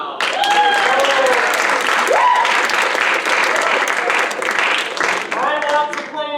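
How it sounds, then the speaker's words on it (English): An audience at an improv comedy show applauds loudly, and whoops and cheers rise above the dense, steady clapping throughout. "You may applaud now."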